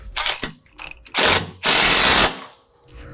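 A ratchet wrench tightens a nylock nut while a Razorback Offroad fixed glass windshield is being installed, giving several close, loud bursts of quick clicking separated by short pauses.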